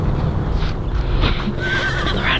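A horse whinnies loudly nearby in the California desert while hooves clop and shuffle underneath, with steady outdoor noise throughout.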